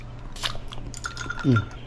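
Someone tastes ice-chilled somen dipping sauce up close: a short sip and mouth sounds, then a soft clink and a low crunchy burst near the end.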